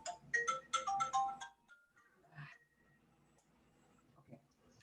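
A telephone ringtone chirps in a quick melodic burst at the start, fairly close and clear, then cuts off into quiet room tone with faint rustles.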